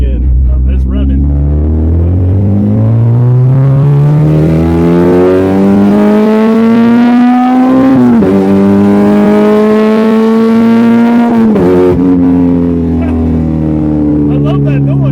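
A 2004 Honda Civic with a K24 engine revs up hard, its harmonic engine note climbing steadily, dipping briefly at shifts and continuing loud and close throughout, with rumble and some wind noise.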